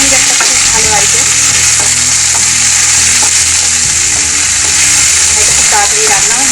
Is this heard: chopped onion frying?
yes